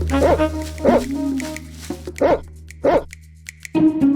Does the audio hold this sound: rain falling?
no